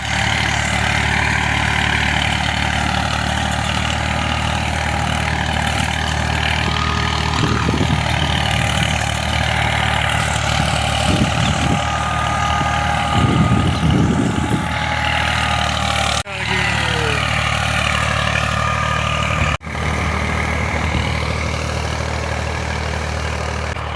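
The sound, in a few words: tractor engine running a rotavator in a field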